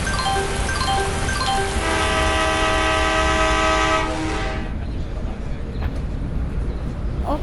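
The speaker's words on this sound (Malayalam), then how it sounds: "ഇങ്ങനെ ട്രെയിനാവും അടുത്തത് വരുന്നത്" A train pulls in within the Indian Theft Auto video game, sounding a loud sustained multi-tone horn for about four seconds before it cuts off, leaving a steady rumble of rolling wagons.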